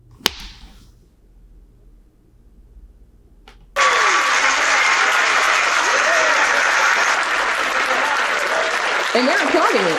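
A large crowd bursts into loud, sustained applause after a few seconds of near silence, the clapping continuing steadily to the end.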